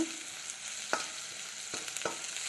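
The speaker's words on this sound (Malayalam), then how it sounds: "രണ്ട് പച്ചമുളക് കീറിയതും ഇട്ട് കൊടുത്തിട്ടുണ്ട് ഉള്ളി ഏകദേശം വഴന്ന് വന്നിട്ടുണ്ട്" Onion, curry leaves and slit green chillies sauté in coconut oil for a broccoli curry, a soft steady sizzle with a few quiet scrapes of stirring, no voices.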